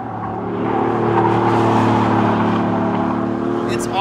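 A BMW i8 with a small three-cylinder engine and synthesized engine sound hums loudly and steadily, a smooth sustained drone rising slightly as it accelerates, with a voice over it.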